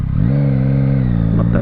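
A nearby 2023 Yamaha MT-09 engine rumbles loudly at a traffic light, its pitch lifting briefly at the start and then holding a steady, throaty idle.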